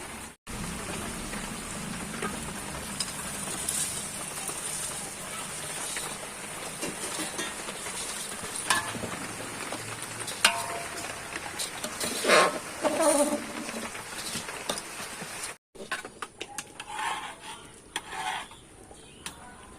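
Meat being fried for kosha on a clay stove (unoon) for a khichuri meal, a steady sizzling hiss with occasional stirring scrapes, blended with heavy rain on surfaces during a stormy day, close and continuous before a brief cut.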